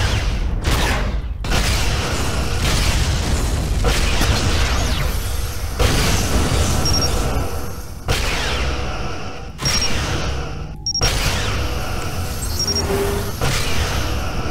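Spaceship explosions in the Star Trek Legacy game: loud, dense booms and bursts, one after another across the whole stretch, with no talk over them.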